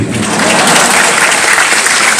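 A comedy show crowd in Banda Aceh breaks into loud, dense applause, a continuous roar of clapping filling the room without pause.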